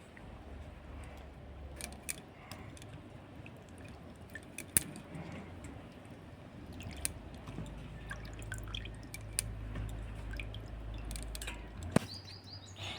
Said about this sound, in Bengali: আমটাকে ভালো করে এভাবে একটু জলটা চিপে চিপে কিন্তু তুলে নিতে হবে এর মধ্যে যাতে জলটা না থাকে